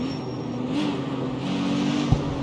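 In the CarX Street racing game, a Nissan Z engine drones and revs with a thin, buzzing tone that swells and eases over a couple of seconds, steady and fairly close, with no voices.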